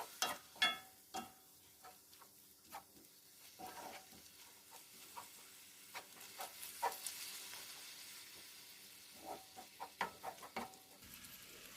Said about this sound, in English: the next thing for me is to stir everything together